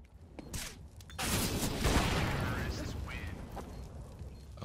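Rapid gunfire from the video game CS:GO forms a dense, sustained burst of shots in a competitive matchmaking round, with a player talking over it.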